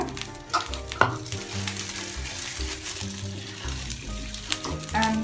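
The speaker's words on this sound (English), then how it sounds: "and fry it for a while." Gado-gado peanut sauce sizzles and bubbles in a pan, with steady frying crackle, occasional stirring scrapes and a few clinks, heard close up throughout.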